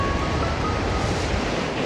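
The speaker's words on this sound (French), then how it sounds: "je vais vous dire, il y a du vent" Steady wind blowing across a white-sand beach on Djerba, a broad continuous rush with a low rumble and possible surf mixed in, loud and unbroken with no voices.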